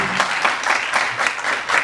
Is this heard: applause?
yes